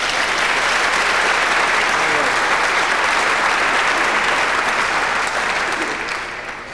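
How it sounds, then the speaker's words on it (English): Audience applause at a live snooker exhibition show, greeting a volunteer called up from the crowd; dense, steady clapping fills the room for about six seconds before starting to fade. "Give him a round of applause there, come on."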